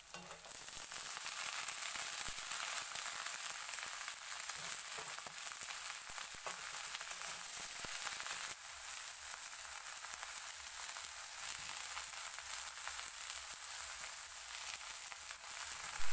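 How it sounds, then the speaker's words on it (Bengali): Taro pieces fry in hot oil with onion, chilli and garlic, giving a loud, steady, close-up sizzle with occasional stirring scrapes that persists evenly throughout. "সবগুলো ভালো করে ভেজে নিয়ে তারপর দিয়ে দিচ্ছি কচুগুলো"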